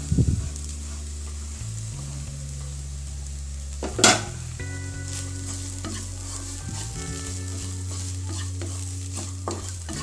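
Sliced okra (ladies finger) fry with cumin powder, pepper powder and grated coconut sizzles steadily in a pan, with a spatula stirring and scraping through it and a sharp clatter near the middle.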